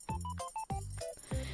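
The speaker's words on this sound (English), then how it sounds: "It's just knitting needles knocking together." Knitting needles rolled across a desk, knocking together in several separate bright clinks with a short ringing tone, like wind chimes. The clinks are spaced irregularly and sound close.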